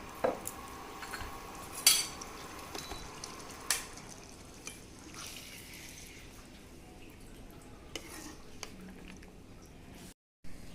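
Mutton doi roast being spooned from a pan into a bowl, with scattered clinks of utensil on metal and soft scraping, sparse sharp taps over a quiet background.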